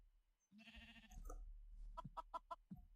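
A Minecraft chicken clucks in a rapid run of short clucks, quiet, following a brief bleat-like call.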